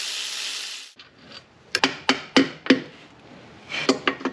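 Main cap bolts on a 2004-2009 Toyota Prius engine being loosened by hand during a rebuild: a string of sharp metallic ratchet clicks and taps, close and fairly loud, separated by short pauses, with no talking.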